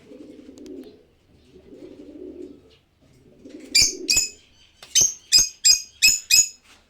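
Pigeons at a breeding loft coo in low, soft, rolling bursts. Sharp wing claps follow in a quick rhythmic run, close and loud.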